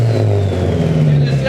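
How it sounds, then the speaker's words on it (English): A turbocharged SR-Z car engine revs hard under boost, a loud steady droning tone rising slightly in pitch, heard close from inside the car with the rumble filling the space. "So we should be able to get it into boost and actually hear what it sounds like under load."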